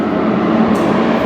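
A Porsche GT race car roars past at Suzuka during a rolling start. It makes a loud, dense engine rush that stays steady for the whole moment.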